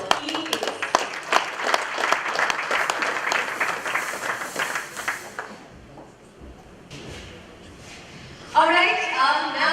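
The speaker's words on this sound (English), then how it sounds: "you guys have to give them a big round of applause" Audience applause for Colombian performers at a Canon launch event, dense clapping filling the first half and then thinning out, with a fresh burst near the end and voices mixed in.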